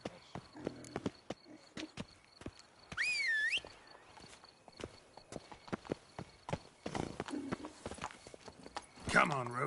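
Hoofbeats of a horse in The Witcher 3 video game sound as a rhythmic clip-clop of walking steps, mixed with game sounds, a brief whistle-like tone and spoken voices.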